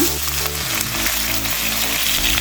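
Onions fry in hot oil with whole spices and curry leaves, a loud steady sizzle that keeps up throughout, with a low hum running underneath.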